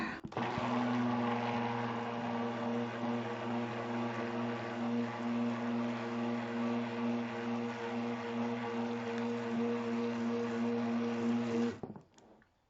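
A blender whirs continuously through a thick, minty orange soap mixture, a steady loud motor drone holding for about twelve seconds before cutting off abruptly.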